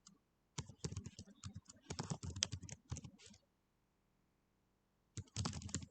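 Rapid keystrokes on a computer keyboard while entering data into a user registration form, dense bursts of clicking that pause for a couple of seconds and then resume, close and clear with no talking.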